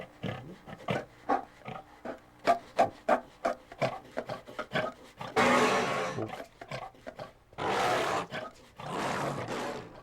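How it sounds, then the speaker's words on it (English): A series of grunting, snorting pig calls gives way to long, rough, growling lion roars, tweaked real animal sounds for film creatures, loud and close, with no talking. "They're all animal sounds that have been sort of tweaked"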